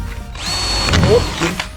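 A power drill bores holes for biscuits during the assembly of a boat kit's bridgedeck, giving a short, close, loud whirring burst with the motor's pitch holding steady before it spins down.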